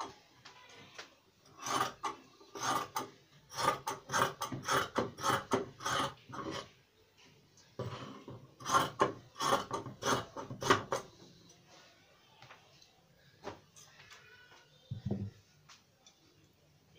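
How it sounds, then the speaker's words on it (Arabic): Scissors cut through fabric for a djellaba in a quiet room. Close, irregular runs of soft snips and rasping cuts come in bursts separated by brief pauses, ending with a few scattered clicks. "أو تندوز تناخد المقص أو غادي نقطع"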